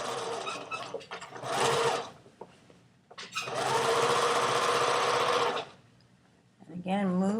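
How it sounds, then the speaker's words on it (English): A domestic sewing machine stitching fabric a millimeter from an edge, close and loud in two long running bursts with brief pauses between, while a person talks over the quieter gaps. "I'm going to stitch just a millimeter away from that edge, all the way down"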